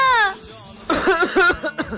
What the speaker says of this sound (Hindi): अबे खांसने का नाटक क्यों कर रहा है?